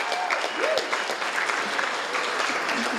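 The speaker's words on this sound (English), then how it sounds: "I think we should start with a round of applause for Melissa" Guests at a wedding reception applaud the bride, a steady, full round of clapping from a crowd in the room, with faint cheers mixed in.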